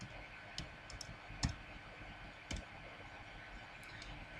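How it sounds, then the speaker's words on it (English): A few scattered keystrokes on a computer keyboard entering a drafting-software command, faint, soft clicks spaced irregularly against a low background hiss. "So I will type purge."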